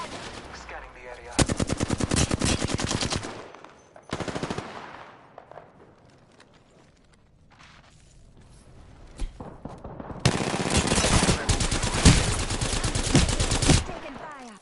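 Bursts of rapid automatic gunfire in Apex Legends, loud sustained volleys separated by a quieter lull with scattered single shots, then another long, heavy stretch of fire.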